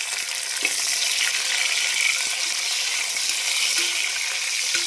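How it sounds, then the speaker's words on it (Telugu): Tomatoes for a fenugreek masala gravy hitting hot oil with onions in a pan, giving a loud, dense, continuous sizzle with a few faint clicks, close and steady, no voices. "టమోటాస్ వేసేసుకుందాం."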